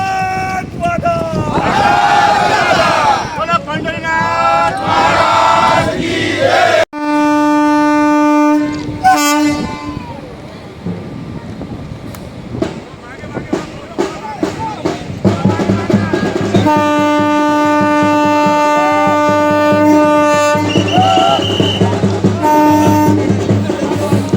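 A special pilgrim train departing Khamgaon for Pandharpur rumbles and sounds its long horn several times, with crowd voices and talk mixed in over the steady roar of rail cars.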